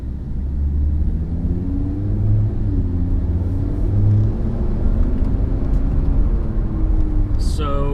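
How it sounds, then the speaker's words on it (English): A 2018 Audi RS3 fitted with STM tuned mid-pipes pulls out into traffic in comfort mode, its engine giving a steady, loud, deep rumble with gentle rising revs heard from inside the car. "we are about to pull out into traffic simulated in comfort mode"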